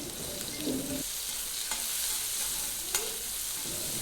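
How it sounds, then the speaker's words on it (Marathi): Sliced onions with turmeric fry in a pan, giving a steady faint sizzle under a few soft scrapes of stirring, with no voices. "कांद्याला परतून थोडासा लालसर कलर येईपर्यंत आपण त्याला व्यवस्थित परतून घेणार आहोत"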